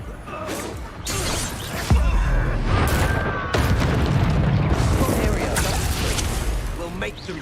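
Bombarda blasting spell in Hogwarts Legacy going off as sharp booming bursts, with crashing, shattering debris and ongoing loud combat effects amid shouted voices.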